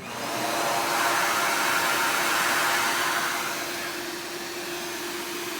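Air is blown steadily into a backyard foundry fire, a loud, even, broadband rushing roar like a hair dryer that holds for several seconds and eases slightly toward the end.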